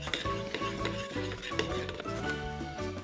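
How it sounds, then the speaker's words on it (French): A spoon stirs a homemade cola mixture of sugar, spices and citrus in a pot, giving continuous close clinking and swishing scrapes over a quiet background. "Et maintenant, on va venir mélanger tout ça."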